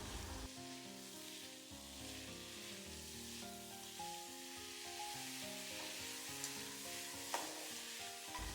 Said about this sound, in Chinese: 炒香后再下入韭菜段，再次翻炒均匀，